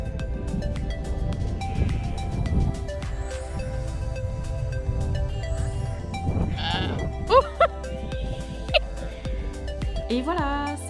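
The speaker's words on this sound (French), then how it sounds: "Il y a plein de moutons." Sheep bleat on a farm near Mont Saint-Michel: several loud, wavering calls near the middle and end stand out over a rumbling outdoor background with a voice speaking faintly at the start.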